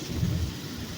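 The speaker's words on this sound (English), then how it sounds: "Ooh, that thunder." Deep rumbling thunder rolls through steady rain during a thunderstorm, a low boom swelling early and then settling into a continuous roar of rainfall.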